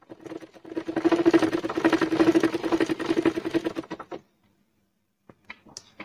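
A sewing machine runs for about four seconds, a rapid, even mechanical whirring of stitches as black cloth is sewn onto pink cloth, then stops, followed by a few faint clicks and handling sounds.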